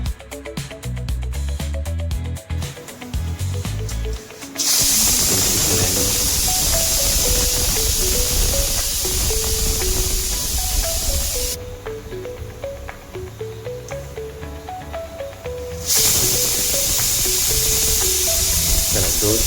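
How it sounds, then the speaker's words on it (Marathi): A pressure cooker whistles while cooking, giving two long, loud, steady hissing blasts of steam with quieter kitchen sound between them. "चला 2 शिट्ट्या झालेल्या आहेत."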